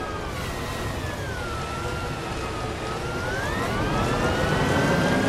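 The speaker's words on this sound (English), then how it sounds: "At least it actually sounds like a Trolleybus." Electric trolleybus in the OMSI 2 driving simulator on the Grundelphia map: a steady traction-motor whine that dips and then climbs in pitch over a low rolling rumble, loud and continuous.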